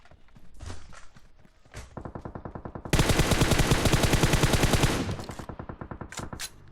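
Rapid automatic gunfire in a video game crackles in dense bursts, building to a loud sustained spray in the middle before tapering into scattered shots.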